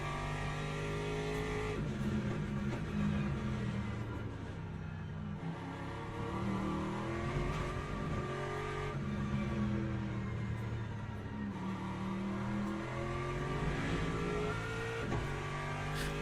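Aston Martin race car engine in the Le Mans Ultimate racing game, a continuous loud harmonic drone whose revs climb and dip through gear changes, with no voices over it.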